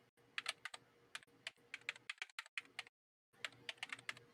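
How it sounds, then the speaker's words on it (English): Fingers tap a computer keyboard in quick, uneven bursts of close, crisp clicks, broken by a brief silent pause before the typing resumes; no voices. "Typing that in the chat."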